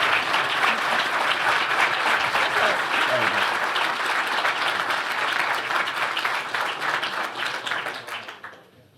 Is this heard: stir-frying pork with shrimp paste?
no